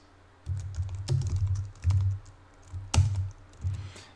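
Typing on a computer keyboard while filling in an online form: several quick bursts of clicking keystrokes separated by short pauses, close and clear with no talking.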